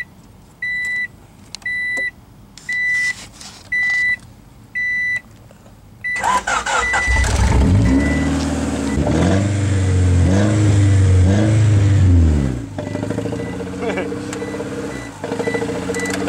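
An old, worn-out car that has been hot-wired gives a series of regular warning beeps, then its engine cranks, catches and revs loudly up close, roaring for several seconds before settling back to a rougher idle.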